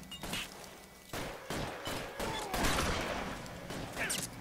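Gunfire in a western video game, a fusillade of shots and rapid bursts mixed with impacts and crashes, loud and dense throughout with voices shouting between shots.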